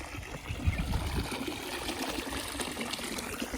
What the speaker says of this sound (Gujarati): તાજું પાણી ભરાઈ ગયું